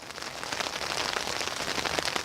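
Dense, steady rain hisses and patters on a tent or shelter in a garden close by, continuous and fairly loud with no voices.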